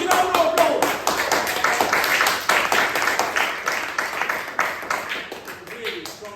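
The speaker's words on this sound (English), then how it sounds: "Give yourself a huge round of applause." An evening audience breaks into applause, a moderate patter of clapping that builds and fades over several seconds, with some voices mixed in.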